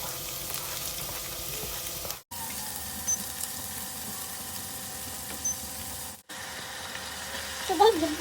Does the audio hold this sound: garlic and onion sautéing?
yes